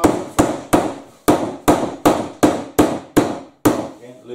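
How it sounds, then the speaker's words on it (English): A hammer drives pins to hold a trim in place during roof trimming work: about ten sharp, loud, evenly spaced blows close by, each with a brief ringing decay and no talking. "then we can again pin it in position"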